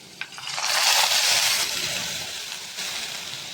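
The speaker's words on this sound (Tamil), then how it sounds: "நம்ம இப்போ இந்த ரத்தத்தை ஊற்றிடலாம்." Blood pours into a pan of sautéed onions, setting off a sudden loud hiss and sizzle that swells and then settles into a steady frying sound, close by with no talk.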